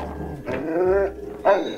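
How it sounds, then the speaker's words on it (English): A dog growling in a played-back video, two drawn-out throaty snarls with a rising tonal edge, the second shorter and louder, heard loud and close with no speech. "the dog walks in and growls and the video pauses"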